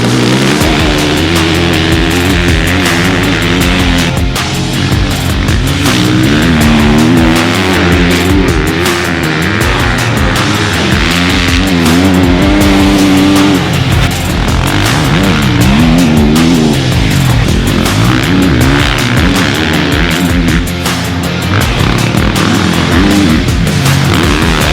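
A 2020 KTM 450SXF Factory Edition dirt bike is ridden hard, its four-stroke engine revving up and down in rapid, loud, close bursts with shifting pitch throughout.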